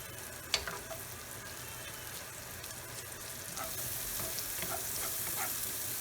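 Shallots sauteing in a pan give a steady, close sizzle and frying crackle with a few sharp pops and stirring scrapes, and nobody speaks.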